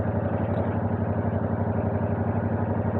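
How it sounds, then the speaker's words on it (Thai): Yamaha YZF-R7 with its 700cc CP2 two-cylinder engine and stock exhaust, running in a steady, loud, close-up throb that holds a constant low pulsing rhythm throughout, with no talk. "เสียงเครื่องยนต์นะครับคำราม ค่อนข้างจะโหดเลย อันนี้ขนาดท่อเดิมนะเนี่ย"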